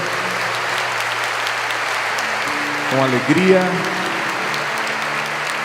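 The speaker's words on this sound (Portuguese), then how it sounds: "Aplaudamos o Santo Evangelho" A church congregation breaks into applause after the Gospel reading at a Catholic Mass, a sustained even clapping throughout, with a voice singing briefly over it midway.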